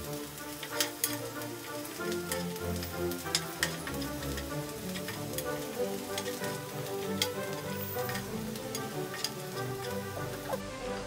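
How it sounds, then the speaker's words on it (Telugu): Green chillies and onions fry in a pan with a continuous crackling sizzle, scattered sharp pops and spits over a steady bed of hissing, with occasional stirring scrapes underneath. "ఇప్పుడు పచ్చిమిర్చిని యాడ్ చేసుకోవాలి."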